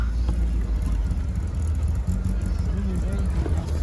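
Suzuki Jimny off-roading down a steep ridge descent, its engine a steady low rumble throughout with faint talk under it.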